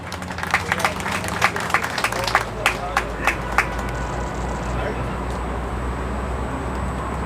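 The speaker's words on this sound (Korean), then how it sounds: "박수로 모시겠습니다." A crowd at a memorial ceremony at a war memorial hall claps to welcome a speaker, first with a scatter of sharp separate claps, then settling into a softer continuous patter over a low steady hum.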